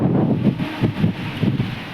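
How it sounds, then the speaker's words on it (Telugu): A strong gusty wind ahead of rain blows hard against the microphone and rustles leaves, in loud pulsing surges that rise and fall every half second or so. "అబ్బా గాలి సౌండ్ చాలా గట్టిగా వస్తుంది."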